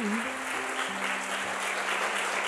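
A worship congregation keeps up continuous clapping after a sermon, a thick, sustained roar of hands with a low sustained tone from a keyboard or organ beneath.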